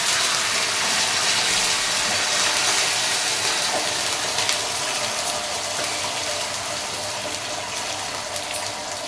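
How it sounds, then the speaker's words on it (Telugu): Water pours steadily and loudly into a pan of fried ingredients for upma, a continuous rushing splash with no breaks. "ఒక గ్లాసున్నర వాటర్ పోయాలి ఇందులోకి"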